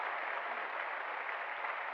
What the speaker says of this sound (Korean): 우리 다시 한번 우리 부활하신 주님께 영광의 박수를 올려드리겠습니다.